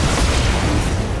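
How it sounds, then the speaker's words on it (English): An ammo explosion in the BattleTech video game during a fight with a Hunchback mech, a loud continuous booming rumble with no separate onset, filling the whole moment. "Ammo explosion!"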